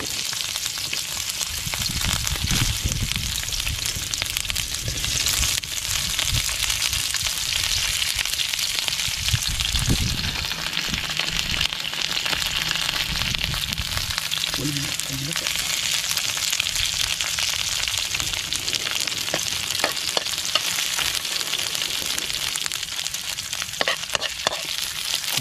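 Onion fries in a pan for adobo with wild quail, a loud continuous sizzle with occasional stirring scrapes throughout.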